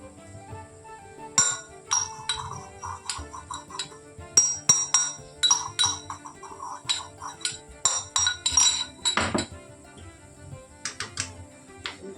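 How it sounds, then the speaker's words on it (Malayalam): A spoon mixes ground cashew and cardamom powder into a banana cutlet mixture, producing close, irregular clinks and knocks against the vessel in uneven bursts. "നന്നായി ഇളക്കി കൊടുക്കുക"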